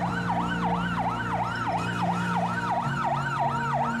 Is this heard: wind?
no